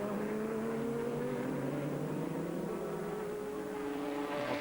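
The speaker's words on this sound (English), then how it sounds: "there is the number 14 car of Jamie Campbell Walter, racing on his own now" Number 14 GT race car driven by Jamie Campbell Walter, a sustained high engine drone with steady pitch that holds throughout, moderately loud with no one speaking.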